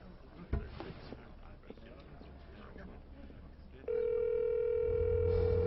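After hushed voices and office noise, a phone call's ringing tone cuts in, a steady loud electronic hum sustained to the end.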